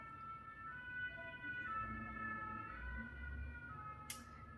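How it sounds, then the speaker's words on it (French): An ambulance siren sounds at a distance, its steady tones running under a continuous low rumble of traffic, with a brief sharp noise near the end. "L'ambulance est passée."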